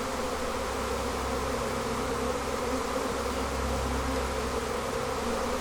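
Honeybees hum around an opened hive in a bee yard, a dense, continuous buzzing swarm close by with a steady drone and no pauses or talking.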